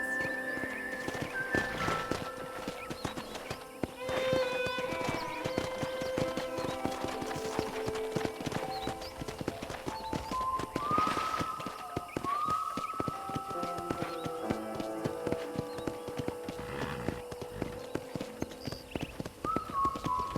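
Horse hooves clip-clop in a steady rhythmic walk around a ranch in the video game Red Dead Redemption over a long stretch, with tonal game music and chimes playing alongside.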